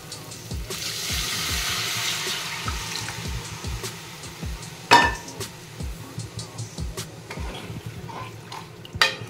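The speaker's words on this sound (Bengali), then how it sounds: "আমি এতে দুধ ঢেলে দেবো" Milk poured into spices fried with turmeric, producing a steady liquid pouring rush with a louder splash near the middle, then scattered clinks and soft stirring scrapes, close and fairly quiet with no talk.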